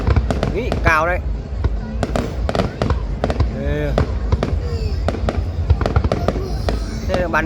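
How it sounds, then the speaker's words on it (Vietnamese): Multi-tier fireworks at a Thanh Son, Phu Tho anniversary show, with loud booming bursts and crackles in quick succession, several whistling rockets rising, and voices chatting underneath. "Đây là bắn nó nổ mấy tầng các loại."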